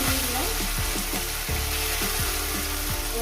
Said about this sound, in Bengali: এবার আমি মাছগুলো এখানে ভেজে নেব